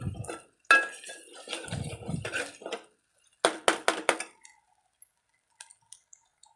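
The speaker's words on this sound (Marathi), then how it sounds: "चटणी चांगली भाजू द्यायची एक अर्धा मिनिट होईल एवढं हलवत राहायचं" A spoon stirs chutney roasting in oil in a pan, with soft scraping under talk at first, then a run of sharp metallic clinks and taps against the pan that thin out into a few faint, scattered ticks.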